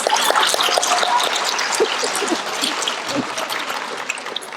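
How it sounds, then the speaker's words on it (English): Middle-school students applaud at a June school assembly, a dense, steady wash of many hands clapping for several seconds with cheers and voices mixed in, tapering slightly toward the end. "Give yourselves a round of applause."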